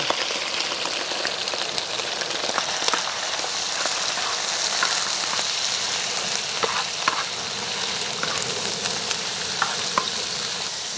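Offal hearts sizzle in hot oil in a frying pan for the Armenian dish tzhvzhik, a steady, dense crackle and spatter running close and continuous with no talking.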